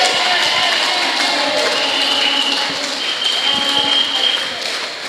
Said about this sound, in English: let us give him a loud round of applause